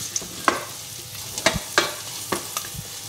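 Ingredients frying in a pan for a chestnut velouté, stirred with a spoon that gives a few sharp scrapes and taps over a soft background sizzle.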